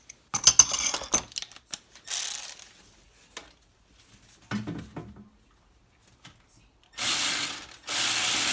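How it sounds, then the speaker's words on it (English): Ratchet on a 12mm socket with a 3-inch extension loosening a turbo bolt on a Toyota MR2 3S-GTE engine, heard as bursts of close clicking ratcheting separated by pauses and short clanks. "So I use like a 12mm socket with like 3-inch extension just to break it loose."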